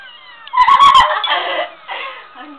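A cat, or a person imitating one, meows in a short burst of loud, wavering cries, close by, followed by fainter trailing calls with light background chatter.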